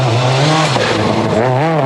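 Richard Burns' rally car on a rocky gravel special stage at Rally Turkey 2003. The engine revs loud and close, pitch rising and dipping as the driver works the throttle, with a gritty edge from the stones.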